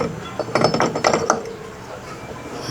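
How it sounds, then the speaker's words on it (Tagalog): Metal parts clink and clatter as a clutch bell is fitted onto the CVT of a Yamaha NMAX scooter, a quick cluster of close, bright knocks and scrapes that fades into quiet workshop hiss. "Then, lagyan natin itong clutch bell"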